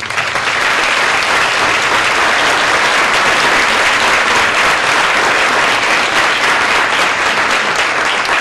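A lecture audience claps steadily to welcome Dr. John Fantuzzo at the Greenfield Memorial Lecture, with dense, loud applause filling the room and holding evenly throughout.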